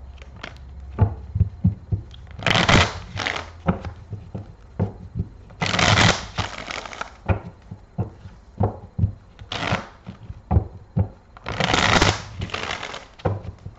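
Spanish Tarot cards being shuffled repeatedly, with bursts of riffling and bridging between quieter taps and handling sounds, close up and without speech.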